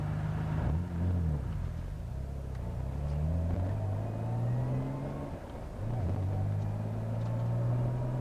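A Nissan Skyline R32 GTR with a carbon fiber hood driving over a rough patch of road: a steady low engine drone and tyre rumble heard from inside, with small shifts in pitch and no talking.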